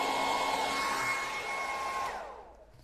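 A hair dryer blows steadily on stenciled paint on a farmhouse sign, a loud close whoosh with a faint whine that fades out at the end.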